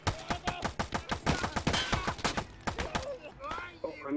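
Rapid bursts of gunfire ring out in the video game Escape from Tarkov, a dense string of close, sharp shots over about three seconds followed by scattered quieter reports.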